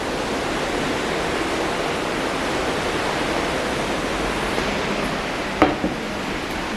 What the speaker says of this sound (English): I'll show you the ocean from the balcony.